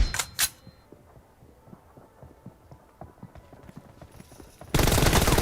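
Gunfire from the battle royale game PUBG crackles in a rapid string of sharp, fairly quiet shots at an uneven rhythm, bracketed by a couple of louder bangs at the start and a sudden loud burst of noise at the end.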